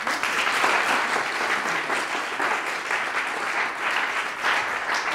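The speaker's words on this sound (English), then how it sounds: "Let's give a round of applause" An audience claps at a talk, a sustained round of applause from a room full of people, dense and even in loudness for several seconds.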